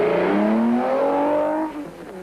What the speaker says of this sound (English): First away were Arpi Reinecker and Lucas Dreyer in the trusty BP Nissan Safari